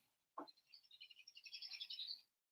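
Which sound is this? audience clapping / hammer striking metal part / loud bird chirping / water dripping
loud bird chirping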